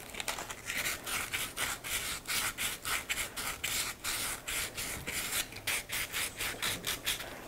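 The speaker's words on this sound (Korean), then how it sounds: "지금부터는 전부 다 사포질을 열심히 해주세요." Steady back-and-forth rasping of folded sandpaper on a wooden speaker, quick rhythmic strokes repeating close up without pause.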